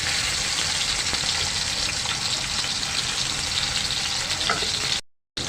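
Tomatoes hit hot oil in a kadhai over a low gas flame, a loud, continuous close sizzle and crackle that fills the whole stretch before cutting off abruptly near the end.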